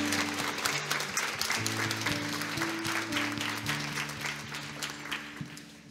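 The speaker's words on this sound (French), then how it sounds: "on peut les applaudir" Members of a Catholic congregation at a catechism Sunday Mass clap together at a moderate level, a steady patter of hands with organ or keyboard chords sounding beneath it.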